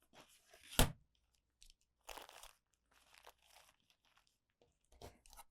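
Scissors trimming the fabric sides of a folded star pin cushion, giving a sharp close snip followed by several crunchy cutting strokes separated by brief silences.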